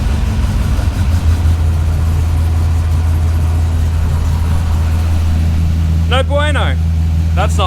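An LS1 V8 in an E46 drift car idles loudly and steadily up close, a deep continuous rumble that a brief spoken remark rides over near the end.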